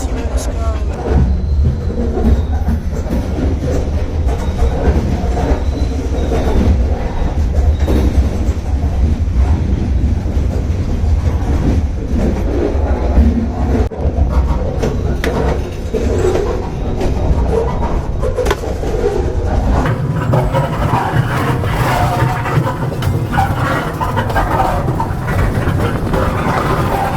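A freight train rolls along the tracks between Mechanicville, NY and Greenfield, MA, heard from aboard as a loud, continuous low rumble with rattling clatter and wind noise throughout.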